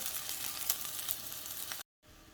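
Onion and jalapeno sizzling in a pan for tacos envenenados: a bright, steady hiss of frying, close and fairly quiet, that cuts off abruptly near the end before faint sizzling resumes.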